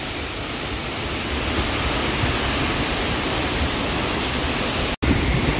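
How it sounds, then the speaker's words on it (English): At the base of the Jezin waterfall, a constant, loud, full roar of falling water fills the whole moment, broken only by a split-second dropout near the end. "at the base of the waterfall here in Jezin, check this out."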